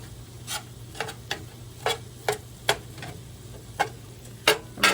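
A utensil stirs garlic into venison cottage pie filling in a sizzling pan, with about a dozen sharp, separate scraping knocks at an irregular rhythm over a low, steady frying hiss.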